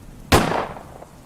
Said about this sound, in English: a single gunshot rang out